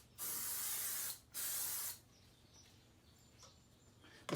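Two loud hissing bursts of lubricant spray onto front bumper replacement parts during a lower grille and headlight lens job, each lasting about a second, close by, followed by quiet room tone and a final short spritz.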